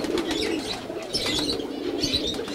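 Highflyer pigeons being handled coo softly in a loft, with low murmuring calls repeating close by and no talk.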